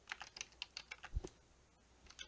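Quick keystrokes on a computer keyboard, a short burst of close, soft clicks tapping out a few words with a thump partway, in a quiet room.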